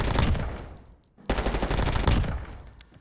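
Rapid automatic gunfire in a video game with the trigger held down, two dense bursts of fast repeated shots separated by a brief pause, loud and close.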